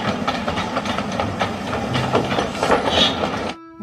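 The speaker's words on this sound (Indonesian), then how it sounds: "Kereta uap." Steam train, likely a toy vehicle, chugging and clattering steadily at close range for several seconds, then cutting off abruptly; no voices.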